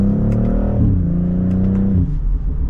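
A brand-new BMW B58 straight-six revs gently under light throttle, a steady close engine drone that climbs in pitch and then settles as the gear changes, with no one speaking.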